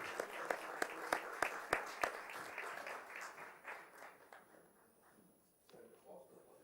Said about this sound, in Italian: che salutiamo anche con un applauso